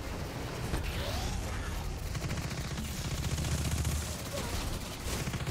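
Sustained rapid gunfire from the video game Destiny 2 during a strike mission, a dense continuous barrage with booming shots running steadily across the whole stretch.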